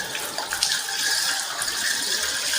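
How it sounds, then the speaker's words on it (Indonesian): Tap water runs steadily over the forearms and elbows during ablution-style handwashing, a close continuous hiss and splash with no talking. "Pastikan air mengalir sampai siku-siku."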